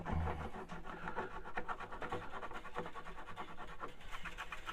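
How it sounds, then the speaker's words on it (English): Sticky residue left by stickers is rubbed off an Alvarez 5046 acoustic guitar by hand, giving a continuous soft scrubbing and rasping on the wood, close and steady, with no talking. "we just rub, and all we're doing is getting this gunk loose"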